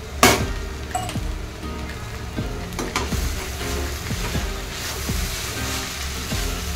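Dry shrimp chutney with Kashmiri chilli, red chilli powder, garam masala, turmeric and salt sautés in a pan as a continuous close sizzle, with occasional sharp clinks of a spatula against metal and no voices.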